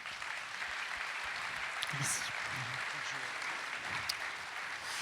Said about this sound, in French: On les applaudit très fort tous les 5.